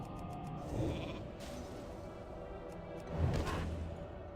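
A sheep in World of Warcraft Classic bleats twice, short moderately loud calls over a low game background with soft whooshes, no talk alongside.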